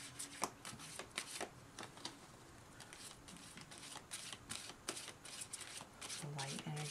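Tarot cards are shuffled in quick riffling bursts, a crisp flurry of slaps and flutters, close up and quiet, with soft talking underneath.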